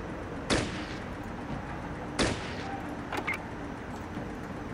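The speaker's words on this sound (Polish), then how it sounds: "Może serio spróbujemy co zaraz strzelić do tej miny?" Gunshots fired at a mine in the video game Fallout Tactics, two sharp loud reports a couple of seconds apart followed by fainter pops against a steady ambient background.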